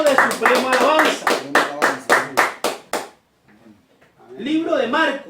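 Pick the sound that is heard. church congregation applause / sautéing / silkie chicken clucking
church congregation applause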